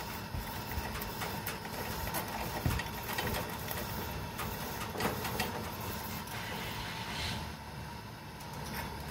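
Pumped camping stove burning steadily, a dense continuous roar and hiss with a faint mechanical ticking texture, close and constant throughout with no talk.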